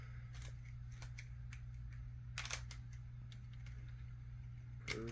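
Small metallic clicks and ticks of a wrench tightening the wheel nuts on Independent skateboard trucks with Spitfire wheels, scattered irregularly over a low steady hum, with a brief ratcheting flurry near the end.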